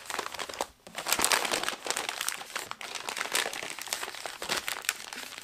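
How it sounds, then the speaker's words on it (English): Wrapping paper crinkles and tears close by as elk meat is double wrapped, with bursts of crumpling and rustling that rise and fall in irregular handling rhythm, no speech. "Then we'll rip off another square, and we're going to double wrap it."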